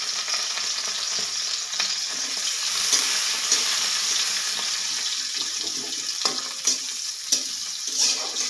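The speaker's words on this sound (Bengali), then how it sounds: "পেঁয়াজ ও কাঁচামরিচ ভাজা ভাজা হয়ে আসলে" Chopped onion and green chilli fry in hot oil with a steady, close sizzle, broken near the end by several sharp taps and scrapes of stirring.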